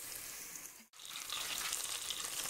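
Garlic and colorau seasoning frying in a pan, a soft steady sizzle with a brief break before the hissing resumes, fairly faint and close, no talking.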